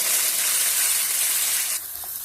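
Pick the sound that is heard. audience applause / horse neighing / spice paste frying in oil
spice paste frying in oil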